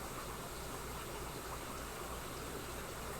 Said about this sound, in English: So this is the water sound you're hearing.